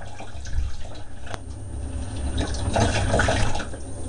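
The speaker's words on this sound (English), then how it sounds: "Give the part a dish and rinse out." Water splashing and running over a Grifter brake caliper part as it is rinsed after a dish soap wash, a steady close wash of liquid with low rumble throughout.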